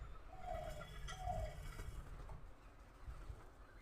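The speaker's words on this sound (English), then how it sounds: "enjoy the wind, playing with the birds here, listening to them chirp" Pigeons coo in two soft, close bursts, with faint bird chirps and light outdoor ambience following; no one speaks.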